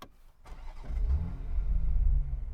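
A manual Toyota Supra engine idles with low, uneven burbling after a brief start-up, the rumble muted and steady.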